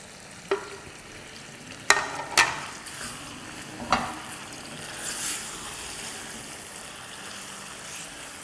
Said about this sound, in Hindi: टमाटरों के साथ और हरी मिर्चों के साथ भी 1-2 मिनट भून लेंगे